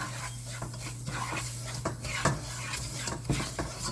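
Semolina frying and being stirred in a pan for pineapple kesari, with scraping and stirring strokes, light metallic taps, and a steady sizzle under a low hum.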